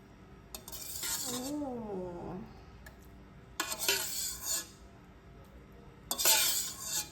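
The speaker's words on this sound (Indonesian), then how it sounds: "Kita aduk-aduk dulu ya." Boiled noodles are stirred in a bowl in a few separate bursts, with utensil scraping and clinking up close, plus a brief rising vocal sound between strokes.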